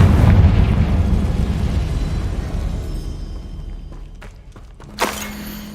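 The Confringo fire spell in Hogwarts Legacy lands as a big booming explosion that fades into a long rumbling decay, followed by a sharp pop near the end.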